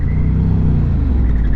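A Ducati Hypermotard motorcycle engine runs at a steady, loud, close rumble, with a slight rise in pitch toward the end and no voices.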